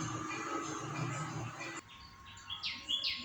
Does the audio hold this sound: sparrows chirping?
yes